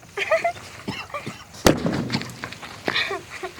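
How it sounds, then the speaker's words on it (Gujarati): A single sharp, loud firecracker bang cuts through scattered distant voices and background chatter, followed by a short crackling tail. "ફટાકડા ફોડો ફોડો છોકરા"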